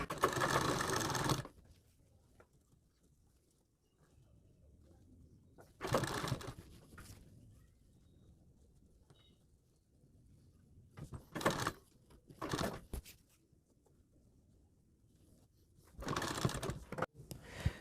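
Bursts of sewing machine stitching on a sleeve come close and loud in short separated runs, with quiet pauses between them.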